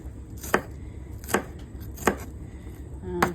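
Onion being chopped with a knife on a board, four sharp, evenly spaced cuts standing out close and clear over a quiet background.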